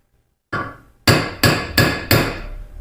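A hammer drives a marking punch into a steel bar to set a drilling point while a knife handle is being fitted: four sharp, ringing metallic blows, evenly spaced and close, after a softer first tap.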